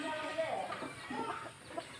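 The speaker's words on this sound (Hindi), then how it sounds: "मैं मुर्गी को बहुत तंग कर रही थी, मुर्गी बहुत खतरनाक रही" A hen clucks close by in short bursts, mixed with someone talking over a noisy outdoor background.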